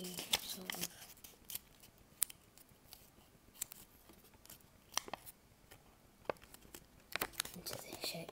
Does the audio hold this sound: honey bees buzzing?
no